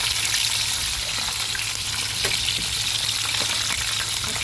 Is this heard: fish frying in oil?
yes